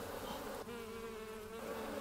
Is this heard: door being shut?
no